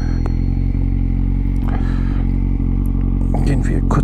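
A Kawasaki Z750 motorcycle rides out of a petrol station with a loud, steady engine drone close by throughout, plus light clatter and a voice talking over it.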